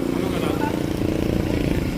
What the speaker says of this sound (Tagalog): Maganda pala ng motor nito